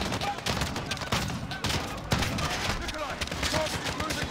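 Bursts of rapid gunfire from the Call of Duty: Modern Warfare video game crackle in dense, repeated volleys, some shots sharp and close, with faint voices mixed underneath.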